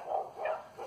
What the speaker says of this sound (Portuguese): Os cachorros do Luizinho estão latindo aí, gente.